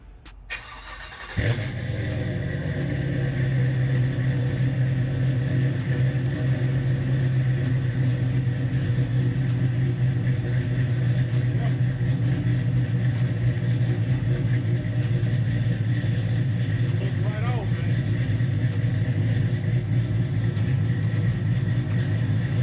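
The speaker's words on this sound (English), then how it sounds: "So, cold start." Car engine cold-starting after about two months sitting idle, a short crank then catching into a loud, steady idle that holds evenly, close by with no talking.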